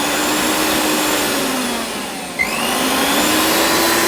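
A Philips HL7713 mixer grinder runs at speed 3, its motor giving a loud, steady high whine that dips briefly midway, then climbs back to full speed and holds.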